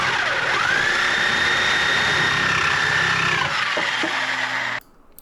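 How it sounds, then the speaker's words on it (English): A power tool cuts through a car exhaust pipe just past the cross member on a Mk4 2.0 wagon, a loud, close, continuous whining grind that rises in pitch, holds, and then stops abruptly. "I figured the easiest way would be cut it right after it goes over the cross member here"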